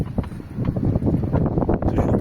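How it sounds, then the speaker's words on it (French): Strong wind gusts buffet a sailboat at anchor off Greece, with steady loud rumbling and flapping that keeps on through the whole stretch. "Il y a trop de vent et encore il s'annonce beaucoup plus de vent."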